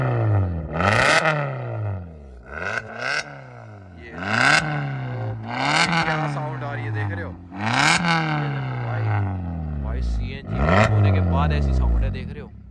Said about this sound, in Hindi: एग्जॉस्ट की साउंड चेक करवाते भाई, बहुत ही बढ़िया साउंड आने वाली है।